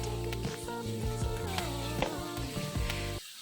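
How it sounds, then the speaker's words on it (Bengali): Onion, garlic and spices fry in oil in a wok with a loud, steady, close sizzle, broken by occasional stirring scrapes before it cuts off abruptly. "এবার একই কড়াইতে প্রয়োজন মতো তেল দিয়ে পেঁয়াজ, রসুন ও অন্যান্য মশলা ভালোভাবে কষিয়ে নিচ্ছি"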